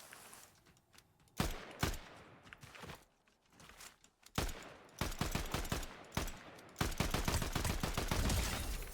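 Assault rifle fire in the Fortnite video game, with repeated sharp bursts and single shots cracking out in clusters, loud and close, with brief quieter gaps of footsteps between volleys and a dense run of fire near the end.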